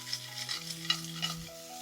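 Clams and lime pieces sizzle in butter in a frying pan, a soft steady crackle with light stirring clicks throughout, close up and fairly quiet with no voices.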